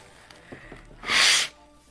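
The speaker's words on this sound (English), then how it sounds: "Blow your nose again." A single forceful nose blow, a loud broadband rush lasting about half a second, comes after a few soft sniffs and close breaths in a quiet room.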